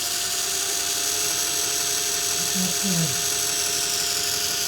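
A Clausing 100 lathe motor driven by a Huanyang VFD hums with a steady electric whine and drone, shifting pitch slightly as its speed is turned down and then back up with a remote speed control.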